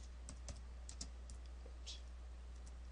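Keys tapped on a computer keyboard while entering a word for a layout annotation, a few soft scattered clicks over a steady low hum, no talking.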